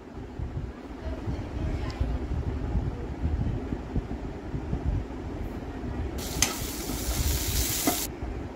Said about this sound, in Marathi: आता आपण कांदे भाजून घेऊया थोडंच तेल टाकून।